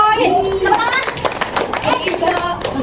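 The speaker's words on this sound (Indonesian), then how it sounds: "Tepuk tangan." A group of pupils clapping in a classroom, with quick bursts of hand claps mixed with children's voices talking over and between them.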